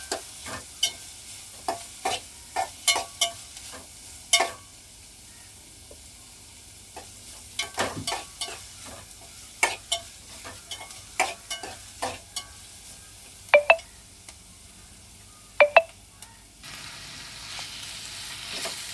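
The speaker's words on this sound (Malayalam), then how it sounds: "ജസ്റ്റ് ഒരു രണ്ട് സവാളയെ കരിഞ്ഞ് ഉരുളിയിലിട്ട് ഇങ്ങനെ അങ്ങോട്ടും ഇങ്ങോട്ടും ഒന്ന് ജസ്റ്റ് ഒന്ന് വഴറ്റിയെടുക്കുക" Two onions stirred around in a metal cooking pan before chicken goes in, with repeated sharp scraping and clanking of a spatula over a faint low sizzle, a steady irregular rhythm close by, no talking.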